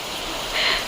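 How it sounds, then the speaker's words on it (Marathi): Rain falling during the first monsoon shower, a steady broadband hiss of drops on surfaces that swells briefly near the end, with no talk. "थांबेल रे पाऊस, थांबेल"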